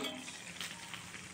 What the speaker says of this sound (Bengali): এখন আমি এটাকে ঢেকে ঢেকে একটু ভেজে নেব